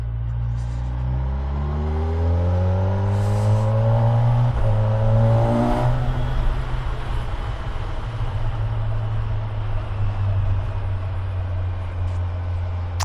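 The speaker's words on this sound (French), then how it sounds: "Ouais, sacré moto, hein." A 2025 Kawasaki Versys 1100 motorcycle is ridden nearby, its engine revving and rising through the gears with a rumbling tone, then settling into a steady, loud drone over wind noise.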